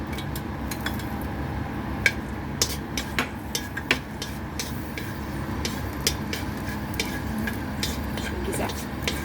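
Chopped garlic sautéing in hot oil in a pan for chicken tinola, with a low steady sizzle, stirring scrapes and a few sharp utensil clicks against the pan, heard close up.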